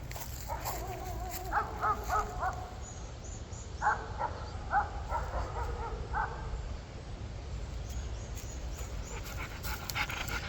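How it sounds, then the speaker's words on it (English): A dog barks faintly in the background at a house being pressure-washed, with a few short, distant barks under steady broadband machine noise. "Who's barking?"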